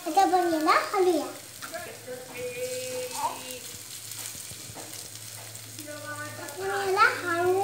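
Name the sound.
stirring poha frying in a pan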